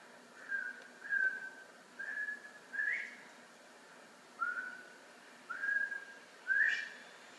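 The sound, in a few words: whistled bobwhite quail call imitation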